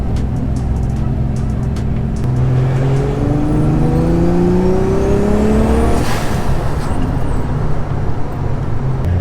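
Nissan S14 with a swapped 1JZ engine accelerating hard through the gears, loud and close from inside, the rising engine note climbing and dropping with each shift over constant road noise.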